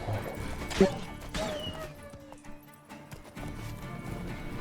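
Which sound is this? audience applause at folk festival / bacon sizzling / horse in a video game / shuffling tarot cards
horse in a video game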